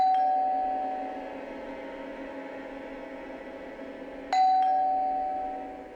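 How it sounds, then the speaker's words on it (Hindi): An indoor doorbell chimes twice, once at the start and again about four seconds later, each ring a clear electronic tone that fades in a quiet room. "तभी दरवाजे पर घंटी बजी।"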